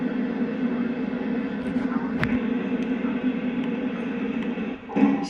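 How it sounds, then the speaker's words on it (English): The Nature Express train moves through snow with a steady, continuous rumbling hum, broken by a sharp brief clank midway and a slight swell near the end. "And we're moving the train."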